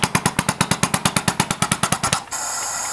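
A homemade air-powered engine with a heavy flywheel chuffs slowly in a steady run of about twenty sharp, evenly spaced puffs. The puffs stop abruptly and leave a steady hiss of escaping air.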